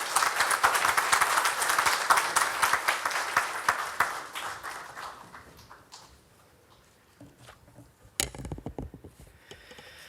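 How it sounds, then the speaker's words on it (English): Applause from the audience at a book launch greets Rahul Bose, starting as a full burst of clapping that gradually thins out to scattered claps, then a brief renewed flurry near the end. "Please welcome Mr. Bose with a huge round of applause."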